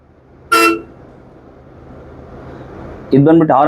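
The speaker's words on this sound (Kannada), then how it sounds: "ಇದು ಬಂದ್ಬಿಟ್ಟು ಹಾರನ್" A KSRTC Volvo bus horn gives one short, loud honk, then after a quiet pause of a few seconds a second honk blares.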